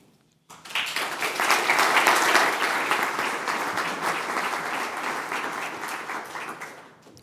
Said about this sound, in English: One more applause for Hans